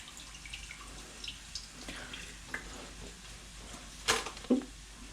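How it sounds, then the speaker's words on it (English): Soaked rice is drained through a small sieve, with soft trickling water and scattered drips, then a couple of sharper splashes near the end, all fairly quiet and close with no talk. "Just get all the water out."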